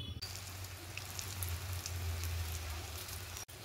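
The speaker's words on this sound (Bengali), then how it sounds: "এবারে ধোকাগুলোকে এক এক করে ভেজে নেব।" Dhoka, Bengali lentil cakes, frying one by one in hot oil in a kadai, giving a steady close crackling sizzle that is fairly quiet and continuous, with no voice present.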